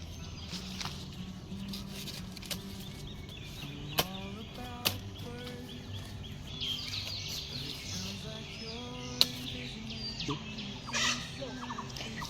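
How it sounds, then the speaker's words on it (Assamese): Birds chirp and twitter steadily in the open air of a field, with a few sharp clicks and a low murmur underneath. "চৰাই চিৰিকটিৰ মাতবিলাক কি ধুনীয়া লাগিছে চাওকচোন"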